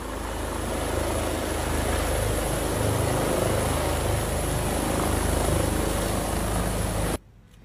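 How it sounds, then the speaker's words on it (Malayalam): A helicopter comes down onto a school's grass lawn with a loud, steady rotor and engine roar that holds throughout, then cuts off abruptly just before the end. "ഗ്രിഗോറിയൻ സ്കൂളിന്റെ പുൽത്തകടിയിലേക്ക് യൂസഫിലൂടെ ഹെലികോപ്റ്റർ"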